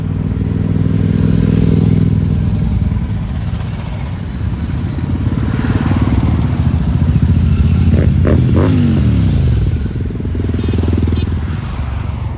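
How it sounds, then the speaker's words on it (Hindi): Group of motorcycles riding on a road near Chandigarh, a continuous close engine drone with rising revs and passing clatter throughout. "वापस चंडीगढ़ जाते हुए रास्ते में हमें मोटर बाइकरों का एक ग्रुप मिला।"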